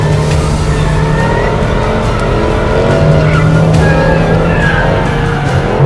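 A supercar driven hard around a race track roars loud and close, its engine droning steadily while the tires squeal and skid through corners for several seconds.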